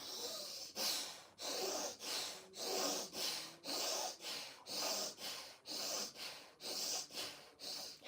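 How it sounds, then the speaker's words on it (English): Quick purging breaths in a guided breathwork session: about eleven forceful, evenly spaced exhales and inhales follow one another in a steady rhythm, close and clear with no talking. "we want to work more on purging with this breath on the physical level"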